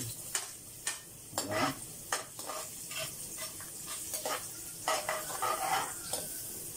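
Ginger sautés in a pan with a soft sizzle, while repeated sharp clicks and scrapes from a utensil against the pan come at an uneven pace, fairly close.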